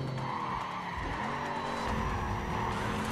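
A Mustang GT drifting in the racing game NFS Carbon, tires skidding and squealing steadily over a droning engine note, loud and continuous with no talk.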